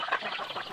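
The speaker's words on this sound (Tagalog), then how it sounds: "Nagpatukan na muna tayo ng ating mahalang manok" Brief, quick clucking and squawking from gamefowl sparring nearby, a short agitated burst of fowl calls.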